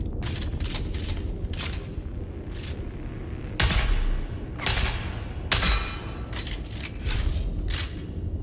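Gunshots in the survival game Dune Awakening ring out as a series of sharp, separate cracks spread over several seconds, with a few louder blasts standing out above a steady background rumble.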